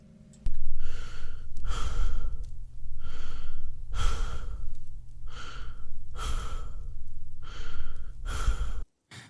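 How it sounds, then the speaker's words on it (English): Heavy breathing over a phone line, about eight slow, deep, rasping breaths in a steady rhythm, close and loud with a muffled, filtered quality, with no one talking, ending in a short silence. "was greeted with about 10 seconds of heavy breathing before he spoke"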